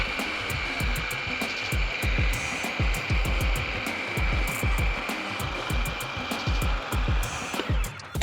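A food processor runs continuously while blending roasted red pepper hummus, giving a loud, steady motor whir with a high whine and a rapid churning, thumping texture from the thick purée slapping the bowl, with no talk.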